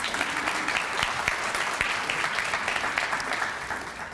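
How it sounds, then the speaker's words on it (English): Audience at a county meeting giving a commissioner a round of applause, a dense, even patter of many hands clapping that carries on steadily and fades slightly at the close. "Let's give Commissioner Robinson another round of applause"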